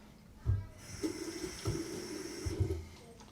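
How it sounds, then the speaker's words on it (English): A tap runs in short bursts during a wet shave, water splashing and gurgling into a sink in several brief pulses, close and moderately loud. "Just add a splash of water as we prep for the second pass."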